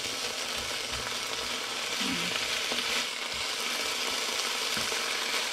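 Beef fries in a pan without oil, giving a steady, continuous sizzle at close range with only faint stirring noises and no speech.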